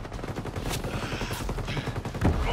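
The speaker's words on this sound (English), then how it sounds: "Sniper fire incoming." Ghost Recon Breakpoint firefight, rapid close gunshots in quick bursts with a heavier hit near the end, loud and busy with little talking.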